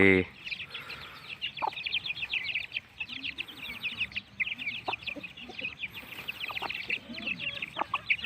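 Several free-range village chickens cluck and chatter continuously nearby in the morning, with short bursts of calls over a faint outdoor background.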